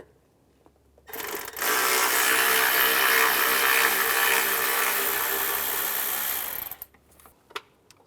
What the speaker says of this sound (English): Use a T25 socket. Remove this bolt.